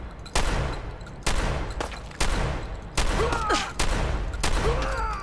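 Shotgun blasts in Fallout 4, six loud, sharp reports spaced roughly a second apart, each with a booming tail, with faint creature cries between shots.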